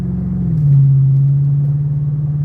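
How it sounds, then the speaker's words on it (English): A truck drives along with a steady, loud, low engine drone close by. The engine pitch drops slightly and then holds even, with no talking. "Driving around on my truck."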